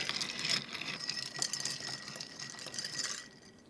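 Ice clinks and swirls as a whisky and maple cocktail is stirred, a soft continuous rattle close by that fades out at the end.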